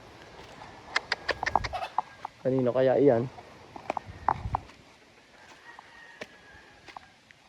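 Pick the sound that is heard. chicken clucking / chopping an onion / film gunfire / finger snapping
chicken clucking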